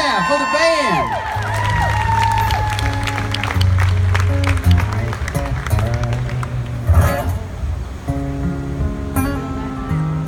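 An audience at the CMA Fest country music event applauding a band, steady clapping and cheering from a large crowd mixed with lingering instrument tones and a voice.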